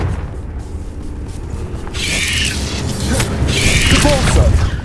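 Crackling fire-blast spell bursts in the video game Hogwarts Legacy, loud rumbling booms with bright hissing flares arriving in two or three surges, under a voice speaking.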